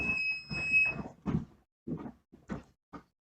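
An electronic buzzer in a lighting monitoring and control system built with the Tesla S app sounds a steady high tone for about a second, followed by several short, sharp bursts with gaps of silence between them.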